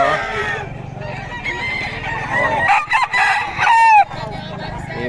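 Roosters crow repeatedly at a chicken market in Bocaue, loud and close, with clucking fowl and a busy crowd murmuring underneath.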